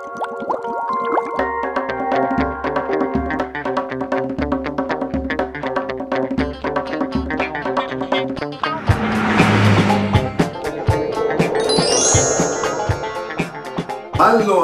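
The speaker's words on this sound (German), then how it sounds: "Es geht um rauchende Wohnmobile beim Startvorgang und da starten wir auch gleich durch" Old Fiat, Citroen and Peugeot motorhome engines starting and running, a steady loud engine drone with rhythmic low throbbing, then a rougher surge partway through, under background music.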